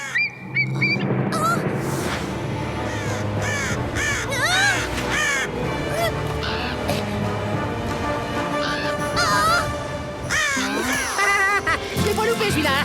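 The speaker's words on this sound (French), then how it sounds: "Wanji est tombé dans un nid de corbeau." Cartoon crows caw repeatedly around a crow's nest. The harsh, rising calls come close and overlapping over a busy animated soundtrack, with character voices speaking in between.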